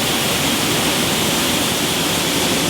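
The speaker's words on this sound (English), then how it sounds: "what you see here is the berries going through a final rinse" Wild blueberries pass through a final water rinse on a processing line, making a dense, loud, steady rush of spraying and flowing water with no breaks.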